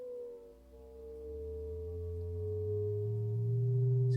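A Volca Modular synthesizer holds a sustained low-pitched tone with slow beating, several steady partials gliding slightly as the pitch drifts, steady and fairly loud with no other sounds.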